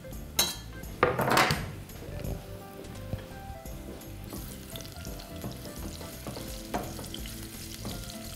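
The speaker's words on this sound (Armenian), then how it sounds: "մթերքները տապակելու եմ բուսայուղով" Vegetables, starting with finely chopped celery stalk, frying in vegetable oil in a pot for a lentil soup, with a steady sizzle, some stirring and clinks of utensils against the pot, and no talking.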